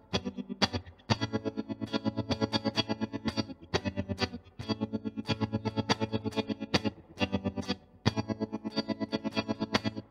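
Electric guitar through a Mooer tremolo pedal in choppy pulsing mode, chords chopped into fast, even on-off pulses with brief gaps between phrases, loud and alone.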